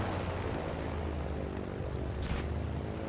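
Propeller airplane engine in the video game Just Cause 3, a steady loud drone that fills the whole clip, with a brief whooshing swell near the end.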